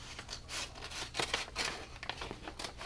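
Scissors snip through craft mat material in several close, crisp cuts with short rustling between strokes, the cutting heard alone without speech.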